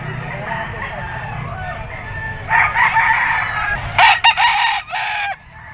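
A two-year-old Boston gamefowl rooster crows loudly and close by, several strained crow bursts one after another, with clucks and other fowl calling in the background.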